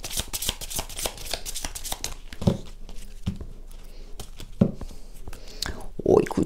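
Oracle blessing cards shuffled by hand in close, brisk bursts of papery riffling and slapping, with soft speech faintly underneath and a few louder handling knocks.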